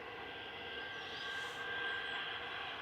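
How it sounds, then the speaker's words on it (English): EasyJet airliner engines spool up at Manchester Airport, a steady whining roar with a high tonal hum rising slightly in loudness, heard from a distance. "EasyJet starting up."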